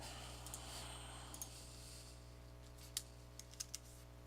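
Quiet typing on a computer keyboard, a few scattered soft key clicks in short bursts over a low steady electrical hum, close and faint with no talking.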